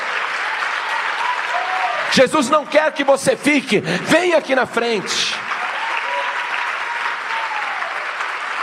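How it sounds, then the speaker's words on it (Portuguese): Church congregation applauding throughout, a steady wash of clapping that continues while a preacher speaks loudly over it, his voice rising and falling in the middle stretch. "Vamos aplaudir mais o Senhor Jesus"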